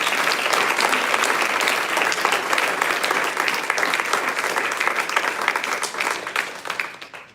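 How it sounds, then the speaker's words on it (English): Loud, sustained applause from an audience, dense clapping throughout that fades slightly near the end. "Let's give a lot of applause"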